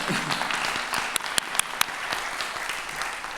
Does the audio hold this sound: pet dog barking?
no